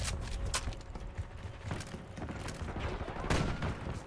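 Gunfire in the video game Black Ops 6, scattered sharp shots and short bursts at moderate distance with a busy battlefield din, a loud crack near the end.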